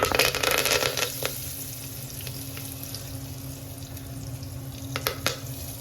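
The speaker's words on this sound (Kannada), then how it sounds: "ಇದಕ್ಕೆ ಇವಾಗ ಸ್ವಲ್ಪ ಸಾಸಿವೆ ಹಾಕುತ್ತೇನೆ ನಾನು, ಸ್ವಲ್ಪ ಜೀರಿಗೆ" Mustard seeds, cumin and curry leaves crackle in hot oil as the base for a vegetable pulao, a steady low sizzle with a few sharper pops near the start and end, fairly faint and with no talking.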